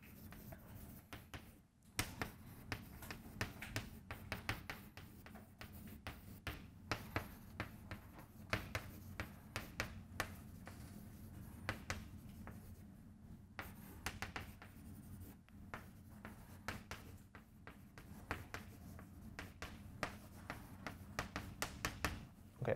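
Someone writes a joke on a board, with quick faint scratches and taps of the marker or chalk in uneven bursts over a soft room hum, and no talking.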